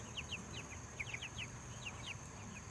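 Meat-breed chicks nearly three weeks old peeping in quick high chirps, scattered in small bursts, faint over a low steady hum.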